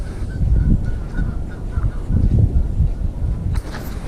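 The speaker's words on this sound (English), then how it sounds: "A couple of geese are at it." Several geese honk back and forth loudly nearby, a squabbling chorus of harsh calls with no one talking.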